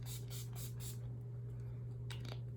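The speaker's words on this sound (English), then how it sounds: "So I'm going to spray with my NYX Matte Finish" NYX Matte Finish setting spray misted in several quick pumps, close and soft over a steady low room hum, then quiet handling.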